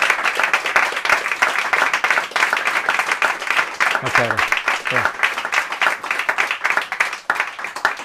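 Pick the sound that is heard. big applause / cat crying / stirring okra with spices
big applause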